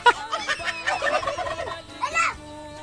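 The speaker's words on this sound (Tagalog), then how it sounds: "Anong sabi ng pabo?" A turkey gobbles in a rapid, warbling burst, then pauses and gobbles again near the end, loud and close with no talking over it.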